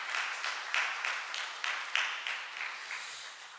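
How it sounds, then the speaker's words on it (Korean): A church congregation claps for volunteers who helped with landscaping, soil work and tree planting, a steady round of applause with sharp bursts of claps, lasting a few seconds and fading toward the end. "힘내시라고 박수 한번"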